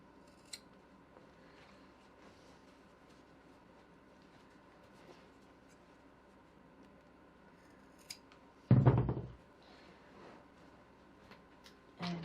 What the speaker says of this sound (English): I like to trim these corners back a little bit.